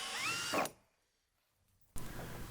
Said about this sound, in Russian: опорные элементы перил я закрепляю к полу обычными саморезами